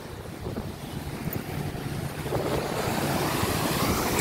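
Ocean waves wash onto a beach in a steady, fairly loud wash of surf mixed with wind noise, with no voices.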